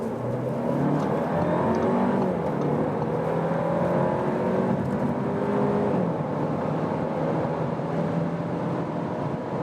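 A 2-litre Audi A5 engine drones steadily as it accelerates, its pitch climbing in stages through the gears, heard from inside with constant road noise.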